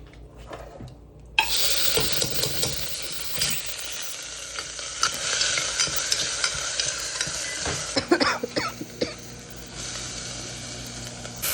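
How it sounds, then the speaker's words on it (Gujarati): Cumin seeds drop into hot oil and burst into a loud, crackling sizzle after a quiet start, then keep spitting steadily, with occasional stirring scrapes and a few clatters toward the end. "જો તેલ, આટલું તેલ લીધું મેં. તો આપણે નાખીશું આમાં જીરું"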